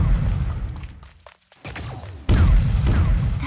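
Gunfire and heavy impacts ring out in the mech battle game Super Mecha Champions, loud booms and bursts with a brief lull before a sudden, sustained burst of firing returns.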